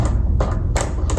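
Tension rods are spun off a marching snare drum, giving a quick run of light metallic clicks and rattles, close and dry, in three short bursts.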